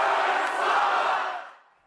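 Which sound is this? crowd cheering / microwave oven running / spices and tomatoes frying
crowd cheering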